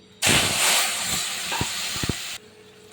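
Vegetables dropped into hot oil tempered with cumin, radhuni and bay leaf, a sudden loud hissing burst that settles into steady sizzling with a few spoon knocks, then stops abruptly.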